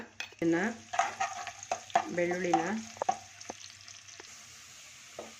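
Finely chopped garlic fries in about 100 grams of hot oil with a steady, bright sizzle, broken by squeaky, tonal scrapes of a spatula against the pan that fade toward the end.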